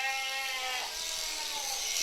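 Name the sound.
sheep bleating during a shearing demonstration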